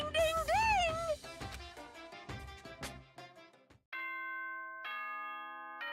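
A video game doorbell chime rings out as a bright ding-dong of sustained bell tones, starting about midway and sounding twice in succession, following earlier game music and effects.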